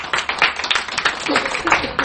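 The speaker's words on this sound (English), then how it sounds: "could you please give a round of applause to Bob Boucher?" A short burst of audience clapping at a veterans coffee house gathering, a dense patter of many hands close by, with some voice mixed in.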